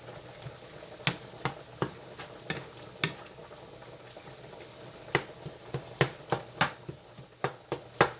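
Ground meat cooks in a pan for a potato casserole, with a string of sharp, close spatula taps and scrapes against the pan, irregular then quickening, over a low, steady sizzle.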